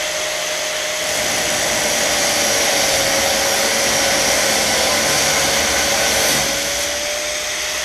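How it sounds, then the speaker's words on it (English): An angle grinder with a cut-off wheel cuts through metal in a loud, continuous high whine with a steady hiss, holding for several seconds before easing slightly. "so I'm going to try and do it with a cut-off wheel on a grinder"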